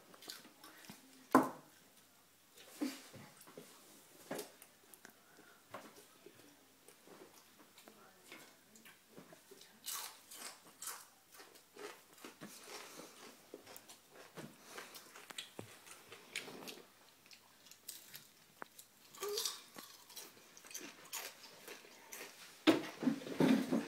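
Someone eating a large pile of bacon, with soft irregular bites and chewing clicks, close and faint, continuing steadily for a long stretch with no talking.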